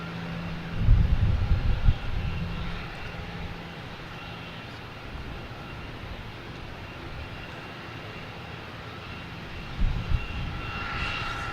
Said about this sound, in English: next to arrive, we have American Airlines coming from Dallas, Fort Worth.